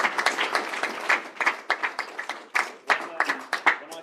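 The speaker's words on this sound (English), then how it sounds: "I think he deserves a round of applause." An audience at a fringe event during a political party conference bursts into applause, a dense run of clapping that swells and dips over several seconds, loud and close in an indoor room.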